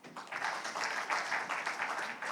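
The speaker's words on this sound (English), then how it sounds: "Could we have a louder, warm applause?" Audience at a special session on Kerala at the GMIS 2023 summit gives a soft, steady round of applause from many hands, heard at a moderate distance and sustained throughout.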